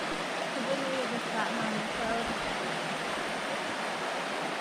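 A river flows steadily in a mountain valley, a broad, even rush of water close by that holds at a constant level throughout, with no other sounds standing out.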